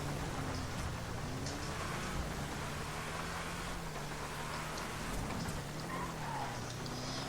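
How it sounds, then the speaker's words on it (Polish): Steady rainfall in the video game GTA 5, a dense continuous hiss of rain on surfaces with a low engine hum underneath, even and unbroken throughout with no voices. "Szkoda, że pada w ogóle."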